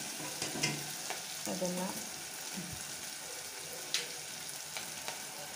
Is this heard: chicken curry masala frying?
yes